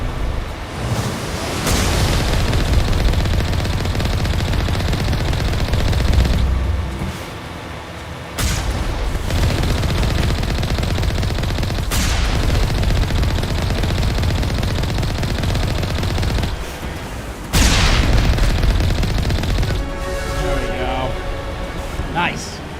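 Gunfire in Mass Effect crackles through a dense, loud battle mix with several sharp shots standing out at intervals under continuous game noise and talk.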